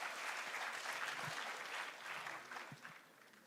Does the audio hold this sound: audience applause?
yes